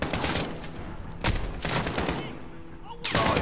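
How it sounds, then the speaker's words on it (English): Gunfire in the video game Call of Duty Modern Warfare, with several sharp bursts and rapid volleys cracking over a continuous background of battle noise, close and loud. "Oh, who's shooting me from out?"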